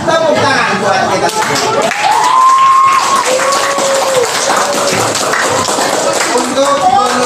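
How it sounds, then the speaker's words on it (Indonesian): Schoolchildren in a classroom clap together at the end of a lesson, a loud, close, rapid patter of hands, with young voices calling and talking over the clapping throughout. "Tepuk tangan buat kita."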